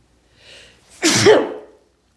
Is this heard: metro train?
no